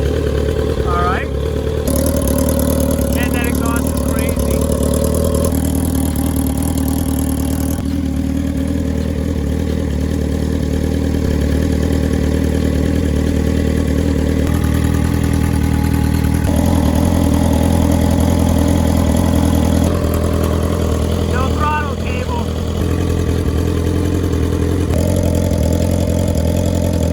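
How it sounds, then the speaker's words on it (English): A 2021 BMW S1000RR superbike engine idles loudly and steadily up close for a long stretch after a rebuild, its tone shifting slightly at moments, with people talking over it. "Now that I know that the engine is running perfectly"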